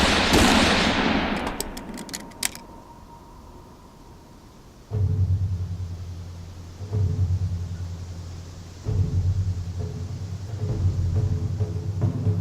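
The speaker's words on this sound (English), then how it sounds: "Open fire!" Bursts of gunfire ring out in a fantasy film battle scene, with a loud burst of sharp cracks at the start, then repeated heavy rumbling volleys in pulsing waves.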